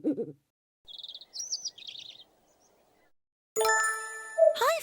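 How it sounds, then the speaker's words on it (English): A cartoon bird in an animated children's story gives three short, bright trilling chirps in quick succession, followed after a pause by a sustained chiming musical flourish. "Suddenly, he heard some cheerful chirping."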